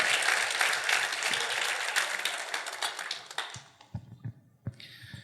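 Congregation applauding inside a church during a Sunday service: a dense, steady wash of clapping for about three and a half seconds that thins into a few scattered claps before fading out.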